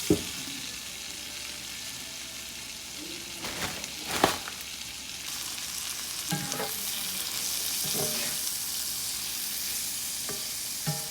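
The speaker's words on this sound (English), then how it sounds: "Let it cook down some and then stir it up, because all of the fat from the bacon has not been completely rendered" Bacon fat rendering in a pan with a loud steady sizzle, broken by several scraping stirs and clinks of a utensil against the pan.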